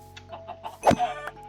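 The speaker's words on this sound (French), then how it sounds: "Oh, une poule." A chicken in the video game Minecraft gives a few short clucks, with one louder central cluck among softer clicks and tones, and no talk over them.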